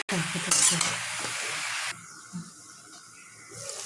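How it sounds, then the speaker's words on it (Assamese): Lai greens and chicken stirred in a hot pan, a loud sizzle and scraping for about two seconds, then quieter hissing with a few soft clinks of the spoon. "এতিয়া মই লৰাই দিছোঁ।"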